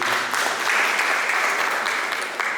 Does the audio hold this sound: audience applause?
yes